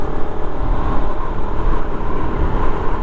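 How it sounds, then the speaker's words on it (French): KTM 125 SMC R supermoto engine riding through town in fifth gear, a steady, loud, even drone dominated by wind and road rush with little exhaust note, no talking. "On a un petit bruit mécanique, quasiment pas de bruit d'échappement et très peu de vibrations"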